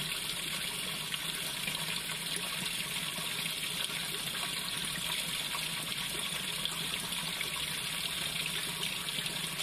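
A Speed Queen TR7003WN top-load washer fills with water on a cold fill, a steady broadband gush of running water that stays constant and fairly loud, close by and alone.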